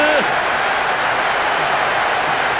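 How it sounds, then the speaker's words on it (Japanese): Opposing supporters in the Winning Eleven football video game jeer after a late goal, a loud, steady crowd roar that holds throughout with no clear breaks. "相手サポーターの大きなブーイングが湧いています。"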